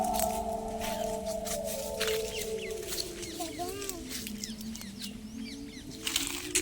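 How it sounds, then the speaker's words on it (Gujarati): Birds chirp in a quiet village garden, short rising calls scattered through the clip over a steady low hum, with occasional rustles and faint voices nearby. "અહીંયા પક્ષીનો કલરવ સંભળાય છે"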